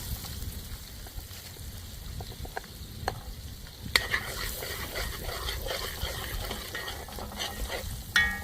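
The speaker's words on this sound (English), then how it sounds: "I burn the curry in some garlic and some scotch bonnet pepper" Curry sizzling and frying steadily in hot oil with garlic and scotch bonnet pepper, with stirring scrapes and small clinks throughout, close and continuous with no talk.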